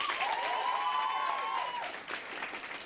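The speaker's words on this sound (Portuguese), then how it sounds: "Palmas para ele, gente!" Applause from a crowd welcoming a guest at a televised discussion on contemporary slave labour, steady dense clapping filling the whole stretch with a slight dip near the end, while a voice carries faintly over it.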